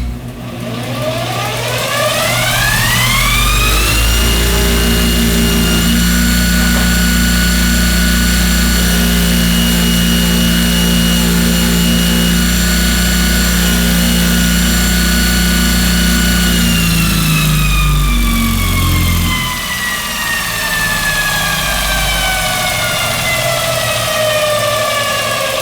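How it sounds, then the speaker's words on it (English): A multi tool refinishing machine running a sisal wheel loaded with black compound for golf club repair, a loud steady motor whine that spins up, holds a constant pitch, then winds down near the end. "I'm ready to go on my next step, which is the sisal wheel. Again, I will load this up with black compound."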